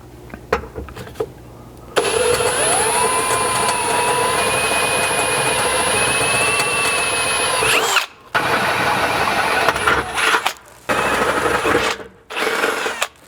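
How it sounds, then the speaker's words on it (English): A power drill whines at high speed for several seconds, stepping up through drill bit sizes to drill rivet nut holes in a 3rd Gen Toyota 4Runner floor, then runs in shorter bursts with brief pauses, close and loud. "a series of drill bits we're going to use to work our way up to that final size"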